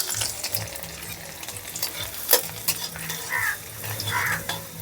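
Chopped garlic hits very hot oil in a wok over a high flame for egg fried rice, giving a busy sizzle broken by metal clanks and scrapes of stirring.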